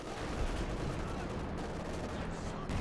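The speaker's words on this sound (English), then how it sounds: "Constant fire here from the Panzer IV." Panzer IV tank cannon and machine-gun fire in the Company of Heroes 2 strategy game, a dense continuous battle clatter of shots and blasts, moderately loud with no pauses.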